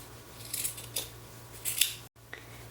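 Scissors snip through fleece fabric at a corner for a no-sew tie blanket, with three or four crisp, close cuts spaced apart and a brief silent gap before a softer final snip.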